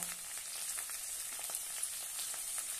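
Sweet corn poha with turmeric sizzles steadily in hot oil in a pan, a faint close hiss with light stirring scrapes throughout and no talking.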